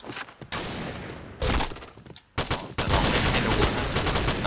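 An Ultimax machine gun fires in the Point Blank video game: rapid, loud automatic bursts separated by brief pauses, ending in one long sustained stream of fire.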